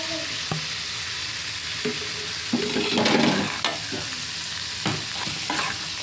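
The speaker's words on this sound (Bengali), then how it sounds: "সিমের বিচিগুলো দিয়ে একটু নেড়ে ছেড়ে নেব।" Broad bean seeds being stirred into onions fried in oil, with a steady sizzle in the pan broken by several irregular scraping spoon strokes, some louder, close up and without voices.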